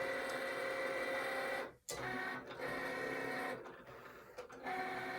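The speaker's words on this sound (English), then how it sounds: "Y'all see it over there cranking, my Cricut machine over there cranking." A Cricut machine runs steadily through a print job in a home craft room, a continuous mechanical whir and chatter with brief pauses and dips as the carriage shifts, no talking.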